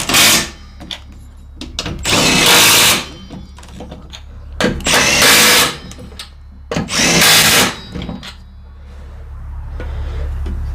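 Power tool bolting a spindle onto a John Deere X series lawn tractor mower deck, three loud bursts of whirring, each a second or two long, separated by quieter handling noises.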